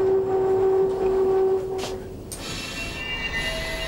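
A red Uerdinger railbus, class 798, arrives at Prien am Chiemsee station with a steady whining tone and rumbling wheels that fade as it settles, followed by low mechanical noise.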